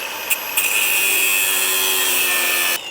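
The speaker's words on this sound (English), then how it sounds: "I might cut it down with the grinder." An angle grinder cuts down a weld on metal, a loud, high, steady whine that spins up after a couple of short bursts and holds for over two seconds before stopping abruptly.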